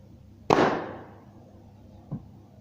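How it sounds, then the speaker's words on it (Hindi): An airsoft gun fires a single sharp shot at a foam block target, a loud close crack with a short decaying tail, followed by a fainter soft knock about one and a half seconds later. "मैं गन को लोड किया। होपफुली अब मैं इसको मिडल में हिट करूँगा।"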